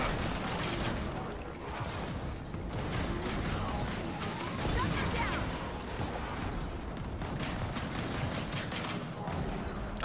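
Rapid shotgun blasts and crashing impacts from Gears of War 4 co-op combat, a dense, loud burst of firing and mechanical clatter filling the scene with little pause.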